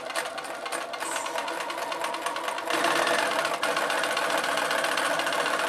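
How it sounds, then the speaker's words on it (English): A sewing machine runs a quarter-inch seam on fabric triangles, a steady close mechanical whir and rapid needle clatter that speeds up slightly partway through, with no talk over it. "I'll be sewing a 1/4 inch seam."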